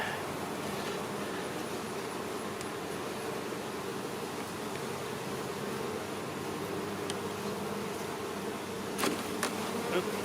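Honeybees buzz continuously around an active hive, a dense, steady drone close by with occasional individual bees passing near, with no talking.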